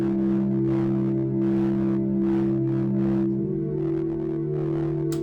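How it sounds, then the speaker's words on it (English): A cheap-sounding keyboard doubling the guitar chords in a black metal mix, with sustained chord tones that shift to a new chord partway through under a dense, rhythmic band texture. "used as sort of cheap keyboard, and I played along all the same chords that the guitar does"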